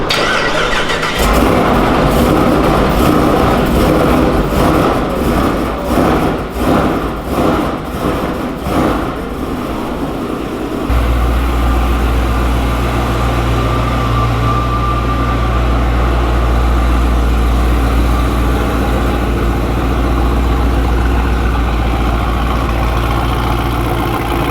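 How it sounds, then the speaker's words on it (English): A 1,000 hp drift car engine cranks and fires up, then settles into a loud, deep, steady idle rumble, recorded close with no talking. "we're about to take this out, do a nice little launch in this thing"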